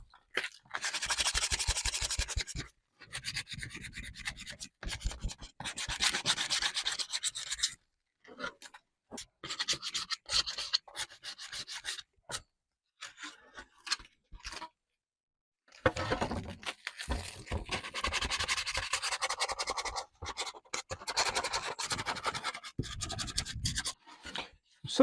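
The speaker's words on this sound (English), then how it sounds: "And now some fine" Fine sandpaper rubbing over wooden radial bracing inside a guitar: close, crisp rhythmic scratching strokes in several bursts with short pauses between them and a longer break midway, no talk.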